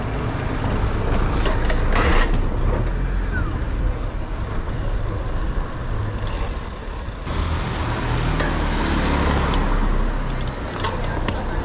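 Busy Budapest street traffic heard from the roadside: a steady, dense rumble of cars and trucks passing close by, with a continuous roar and no clear gaps between vehicles.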